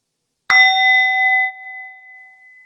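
A single bell is struck once, ringing out clear and loud, then a long resonant ring sustains and slowly fades away, echoing alone in a quiet space.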